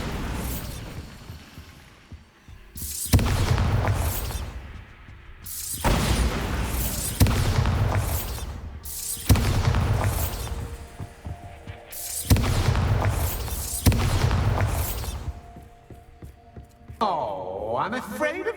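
Explosive blasts from the Bombarda spell in the video game Hogwarts Legacy, a series of about six loud, booming bursts spaced a few seconds apart, each rumbling and fading before the next, with a rising magical whoosh near the end.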